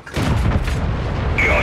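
A tank cannon shell striking enemy armor in a tank video game, a Cromwell on the Berlin map, lands as a deep, heavy boom after a brief quiet onset and rumbles on, with a sharp metallic ring near the end.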